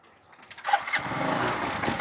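A motorbike kick-started and catching on the first kick: a few mechanical clunks from the kick, then the engine fires and settles into a steady, close idle.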